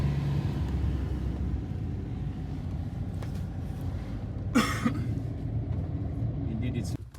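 Interior of a rented car on the road, a steady low engine and tire rumble throughout with a brief clatter partway in, and people talking faintly under the drone.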